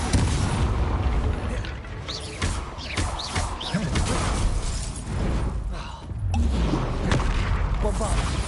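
Bombarda explosion spells in Hogwarts Legacy go off amid a busy spell battle, with booms and shattering crashes mixed among other magic effects and spoken incantations, loud and dense.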